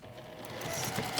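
A sewing machine stitches fabric for a bowl cozy, a steady close whirring hum that runs throughout the short stretch, with no voices.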